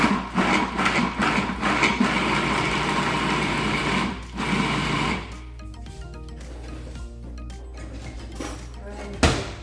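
Garlic being minced for a flavour-enhancer recipe: bursts of whirring, buzzing motor noise with chopping clatter that stops partway, then quieter handling sounds and a sharp knock near the end.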